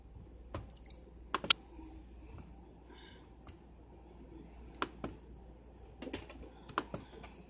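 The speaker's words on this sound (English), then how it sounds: "Just type in" Sparse keyboard typing with isolated key clicks in short clusters at a quiet distance, set against a faint low background hum while a USA map quiz is played.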